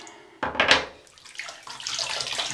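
Hot water gushes from a tap in a brief strong burst for a shaving rinse, then continues as a softer, steady running stream.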